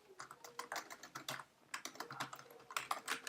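Fast, irregular clicking of a computer keyboard being typed on up close, bursts of keystrokes with a brief pause midway, no voices.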